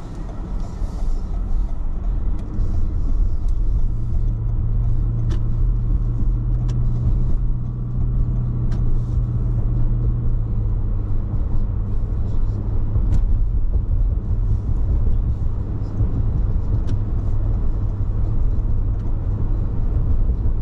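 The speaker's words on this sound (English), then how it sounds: "Traffic." A car drives winter back roads on the outskirts of West Bend, Wisconsin, in snow, giving a continuous low engine and tire rumble with faint clicks, steady and close throughout.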